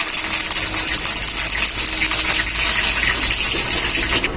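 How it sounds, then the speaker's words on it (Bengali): Curry leaves for a Bangladeshi-style phasa fish recipe frying in hot mustard oil: a steady, loud broadband sizzle and crackle runs throughout, close and continuous with no talk. "কেরিয়া পাতাগুলো তেলে দিয়ে দেবো"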